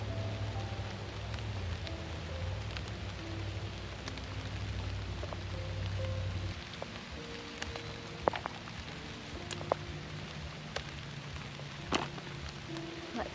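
Light rain falls steadily outdoors while peppers are picked, with soft patter and occasional sharper drips. A low hum fades out halfway through, and no one speaks.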